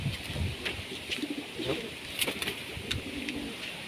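Pigeons coo inside a loft in soft, repeated low calls, with faint scratchy bird sounds in between.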